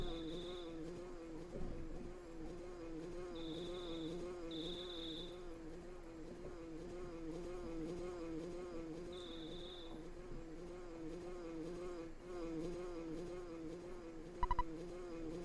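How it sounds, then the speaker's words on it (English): Bee buzzing in the EarthBound video game, a steady, faint insect drone running continuously beneath game music, with a few brief high tones and a short click near the end. "Ness, do you hear a buzzing that sounds like a bee flying around?"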